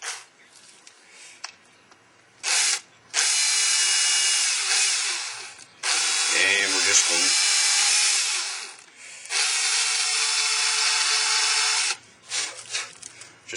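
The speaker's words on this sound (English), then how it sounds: "just going to drill a hole right through" A power drill with a small bit whines loudly in several long bursts while boring a hole through an arrow nock, separated by short pauses with faint handling noises.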